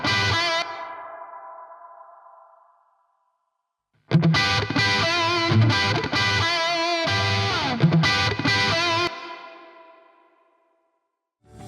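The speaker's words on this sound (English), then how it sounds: "I'm adjusting how much high end I'd like on this guitar reverb." Electric guitar notes and chords washed in lush Overloud Breverb 2 plug-in reverb with high end being adjusted, tails ringing out and decaying into silence between phrases, the last passage fading slowly.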